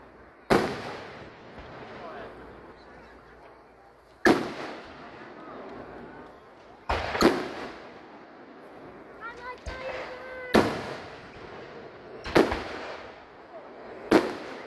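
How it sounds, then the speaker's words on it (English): Fireworks display at a VA park in Clarksburg, West Virginia, with six loud, sharp bursts spaced a couple of seconds apart, each followed by crackling and a fading rumble, and crowd voices murmuring underneath. "If you'd like to see this fireworks display again"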